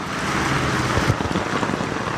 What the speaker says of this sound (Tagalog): hihina, lalakas po ang ating ulan